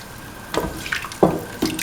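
Coconut milk poured into a pan of rice while making a mint cottage cheese rice dish, heard as a few short, close liquid splashes and glugs in a quiet kitchen.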